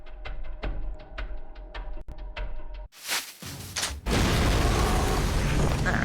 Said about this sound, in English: Alright, lots of explosions.